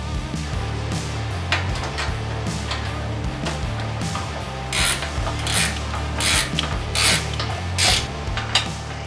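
Quick rasping ratchet clicks in short repeated bursts as a wrench tightens stainless steel bolts on an OPENROAD 13,000 lb Panther Series winch, close by over a low background hum.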